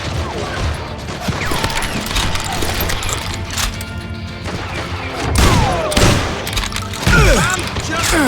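Gunfire in the Western shooter Call of Juarez Gunslinger, a dense, loud stream of shots and crashing impacts with a heavier burst near the end, layered over busy game noise and shouted voices.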